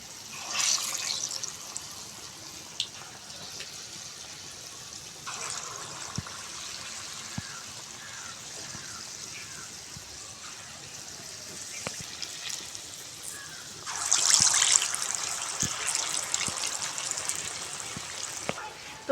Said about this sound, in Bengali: এবার আমি তেলের মধ্যে দিয়ে বড়াগুলো ভেজে নেব।